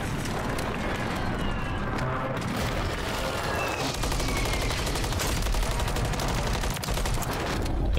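Gunfire in Warzone 3, including sniper shots, amid a busy firefight: rapid overlapping cracks and bursts of shots, fairly loud and continuous, with movement and ambient noise of the match and no speech.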